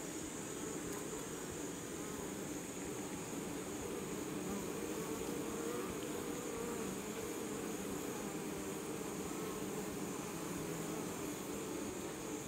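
A dense, steady buzz of honeybees around the hive, a continuous even drone holding without pause, fairly close and with no talking.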